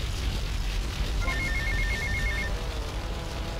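A payphone rings in GTA Vice City, a short burst of rapid electronic trills over a constant low hum of game ambience, fairly faint and lasting about a second.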